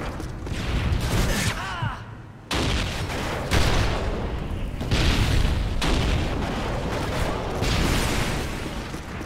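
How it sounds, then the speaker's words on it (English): A stun grenade detonates in a Call of Duty match, a loud booming blast followed by repeated bursts of heavy gunfire and explosions across the whole stretch, with brief shouted game voice callouts mixed in. "Tossing stun grenade!"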